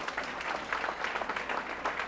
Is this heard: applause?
yes